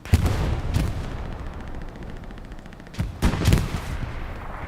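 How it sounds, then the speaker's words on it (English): Grenade blast and gunfire in the World War II shooter Hell Let Loose: heavy, booming impacts open the scene, a lull of rumbling background, then another cluster of loud, close explosive bangs and shots. "Muck got dropped by the grenade."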